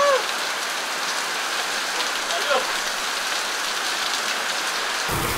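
Heavy rain hisses steadily on surfaces, a dense continuous patter, with a brief whoop of a voice near the start.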